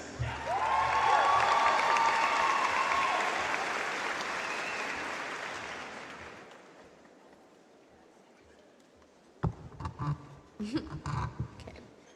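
Graduation audience applauding at a high school commencement for the class of 2025, a broad loud wash of clapping that swells, then fades away over several seconds before a voice begins speaking.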